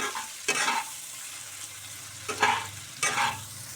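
Two medium chopped onions fry for paneer butter masala, a soft steady sizzle broken by three louder scraping stirs of the spatula.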